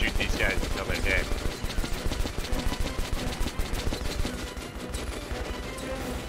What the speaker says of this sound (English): Apparently, you do just shoot these guys until they're dead.